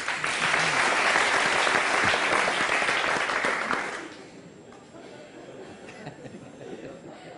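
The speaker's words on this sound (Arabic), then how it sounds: "تصفيق على المشاريع" Sustained applause from a crowd, loud and steady for several seconds before fading to scattered chatter.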